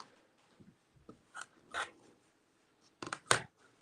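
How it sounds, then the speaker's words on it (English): A fabric trimmer cuts the edges of a quilt block along an acrylic ruler, giving a few faint, short rasping cuts and scrapes with quiet gaps between them. "So we're just going to trim 1/4 inch from the basting stitch"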